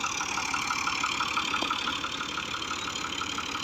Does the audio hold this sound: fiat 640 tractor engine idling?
yes